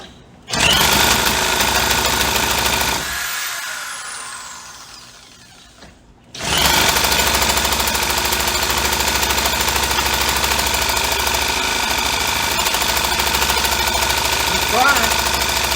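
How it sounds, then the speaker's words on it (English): Poulan 2150 chainsaw held at extra throttle buzzes loud and close in a harsh, steady high-revving drone, cuts out for a few seconds, then roars back up and keeps running. "gives the saw more gas than it's ordinarily going to get"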